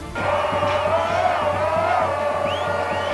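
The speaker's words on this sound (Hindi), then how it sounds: "राजधानी यरूशलेम की सड़कों पर लोगों की भीड़ ऐसी उमड़ी कि वहां पैर रखने तक की जगह नहीं बची" A dense crowd celebrates in the streets of Jerusalem, a steady loud swell of cheering and whooping voices with a few higher shouts standing out.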